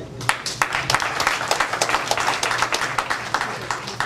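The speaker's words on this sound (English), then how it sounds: "I think we deserve a round of applause." Scattered applause from a small group, uneven claps continuing steadily throughout, fairly close.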